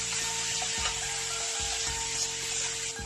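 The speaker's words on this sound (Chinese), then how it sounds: "然后把排骨在锅中炒一下" Spareribs sizzle and spit loudly in a hot wok with star anise, cinnamon and ginger, a dense close frying hiss with intermittent scraping as the meat is stirred.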